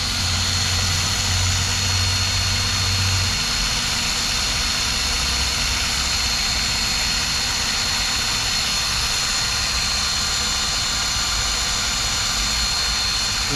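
A Toyota 22RE engine runs steadily on a test harness, a continuous loud droning hum with no clear change in speed and no talking.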